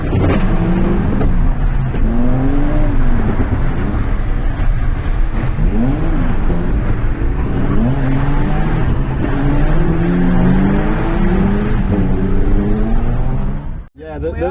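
A Jaguar S-Type engine revs hard and repeatedly against the rev limiter while drifting, pitch climbing and bouncing as it holds high revs, loud and close, with voices talking over it.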